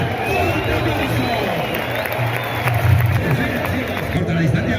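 Bullring crowd at a Fallas bullfighting event in a Plaza de Toros, a dense steady roar of many voices and scattered clapping, loud and continuous throughout.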